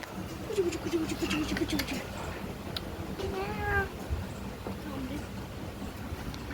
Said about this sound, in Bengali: দেখো এইটুকু একটা বিড়াল এসছি কত ছোট্ট দেখো